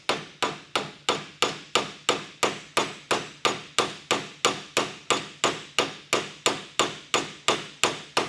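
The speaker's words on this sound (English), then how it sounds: "I'm just doing light taps, and you can see that it's walking down in there." Light hammer taps seat a rebuilt hinge part on a second-generation Chevrolet Camaro, a steady run of about twenty-six crisp, ringing strikes evenly spaced and close by, with no talking.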